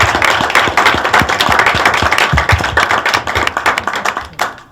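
A small audience claps loudly and close after a rakugo storytelling performance, with individual hand claps clearly audible in quick rhythm before they thin out at the end.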